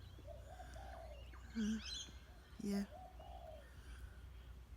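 A small bird calls outdoors near a little tree with pink flowers on a cloudy morning, giving a few short chirps and two brief coo-like notes against steady background hum, with one brief spoken word.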